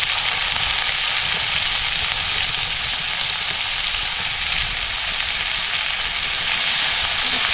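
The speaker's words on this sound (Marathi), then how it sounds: "तेल तापलंय, आता आपण ह्याच्यात टाकूया लसूण" Crushed garlic and chopped onion frying in hot oil in a tawa over a wood-fired chulha, a dense, continuous loud sizzle close by with no voices.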